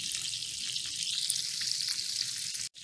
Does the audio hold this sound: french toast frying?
yes